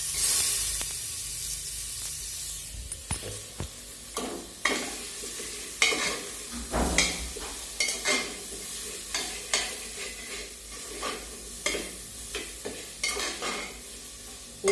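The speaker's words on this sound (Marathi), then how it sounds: "तर हे सगळे मसाले मी आता ह्याच्यात टाकून छान भाजून घेणार आहे" Spices frying with tomato, potato and brinjal for masala rice sizzle and hiss in a pan, broken by a steady series of stirring scrapes and clatters, close and without talk.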